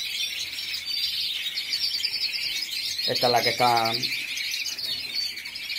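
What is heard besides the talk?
birds chirping in cages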